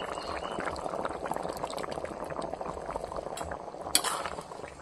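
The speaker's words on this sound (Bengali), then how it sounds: "ঝোল ফুটে গেছে বন্ধুরা দেখুন" Chicken curry gravy simmers in a village kitchen pot with a soft, steady bubbling close by at low volume, broken by one brief metallic clink near the end.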